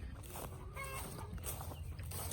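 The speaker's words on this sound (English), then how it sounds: "So this is where chickens are." Chickens cluck and murmur softly on open pasture, a steady low clucking bed with a few brief higher calls standing out over constant outdoor background noise.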